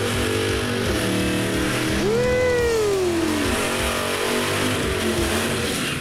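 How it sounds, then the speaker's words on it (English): A 1984 Chevy S-10 drag car roars through a burnout, its engine holding a loud, sustained growl while a revving pitch rises and falls, all close and continuous. "We'll see what a Metallic Raspberry burnout sounds like."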